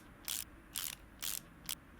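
Four quick mechanical ratchet bursts, evenly spaced, as brake parts are bolted in with an impact tool in Car Mechanic Simulator 2018, crisp and close against a quiet background.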